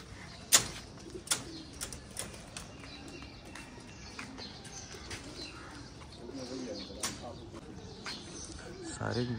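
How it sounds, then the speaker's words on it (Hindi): Racing pigeons coo softly outdoors after release at a pigeon-flying tournament, amid a busy background of ambient noise, with a few sharp clicks and flutter-like bursts scattered through. "सारे कबूतर बाहर आ गए जी साथ के साथ।"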